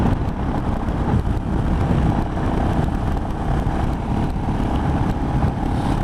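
A Royal Enfield Himalayan 500 motorcycle runs on the road, its engine and exhaust making a steady, low, moderately loud drone mixed with rushing wind noise across the microphone.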